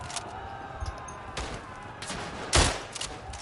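A Winchester rifle fires in the WW1 video game Tannenberg, a few separate sharp shots spaced over a steady battlefield din, with one loud close crack near the end.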